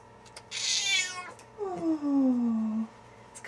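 A pet cat meows while getting subcutaneous fluids by needle at home, giving a short sharp cry and then a long drawn-out, falling meow, close and fairly quiet with no talk.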